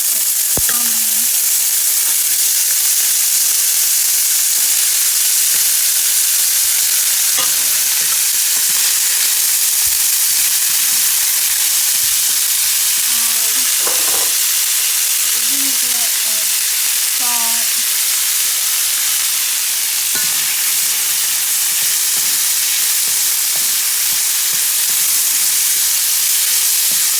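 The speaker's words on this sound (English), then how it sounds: "fry it in some palm oil with some salt" Cooked hominy frying in hot palm oil with salt, a loud continuous sizzle and hiss lasting the whole stretch, with occasional spoon clinks and stirring scrapes close by and no talk.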